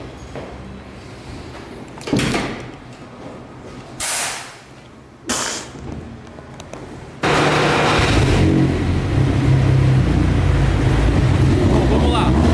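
A 700 hp VW Saveiro pickup with a turbocharged AP engine blips its throttle in three short bursts, then launches into a loud, sustained full-throttle roar that runs to the end.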